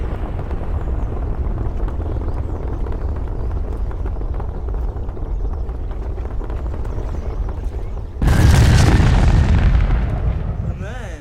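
Bomb explosion from the GBombs 5 addon in the video game Garry's Mod, a sudden loud booming blast that breaks out of steady rumbling noise near the end and then rolls and fades.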